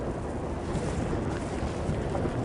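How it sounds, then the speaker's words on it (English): Heavy hurricane wind gusts roar constantly and loudly against the microphone outdoors, a dense, unbroken rumbling blast with no pauses or voices. "We are feeling these heavy wind gusts."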